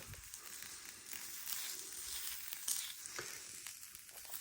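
Sausages sizzle steadily on a garden barbecue with a thermostat, giving a continuous bright hiss with small pops and crackles, close and even.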